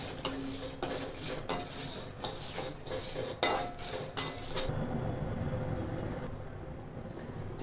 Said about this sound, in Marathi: आता ही भाजून घेऊ याच्यामध्येच